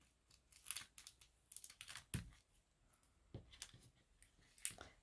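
Scissors snipping the corners off a flat shaker card, a handful of quiet crisp snips and paper rustles spaced irregularly, close and faint with no talking.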